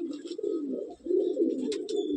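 Breeding pigeons in a loft give a steady, overlapping low cooing that runs nearly continuously, with a brief dip partway through and faint higher chirps above.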